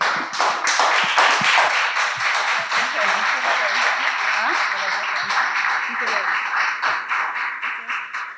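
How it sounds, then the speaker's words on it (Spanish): Applause from an audience at a music pedagogy event, many hands clapping in a steady, lively patter with individual claps standing out, lasting throughout at moderate loudness. "vamos a recibirlas con un fuerte aplauso"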